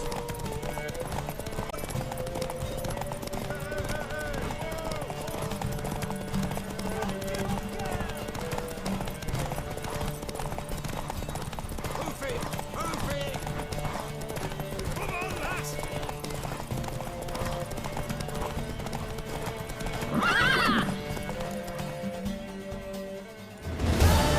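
Horse hooves clip-clop at a gallop with whinnying neighs in The Witcher 3, under game music and some voices, with a louder burst near the end.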